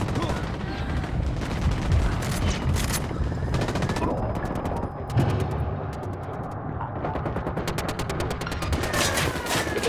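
Sustained gunfire during a firefight in the tactical shooter Ghost Recon Wildlands, with dense, rapid bursts and shotgun blasts rolling continuously across the whole stretch, over loud game ambience and occasional voices.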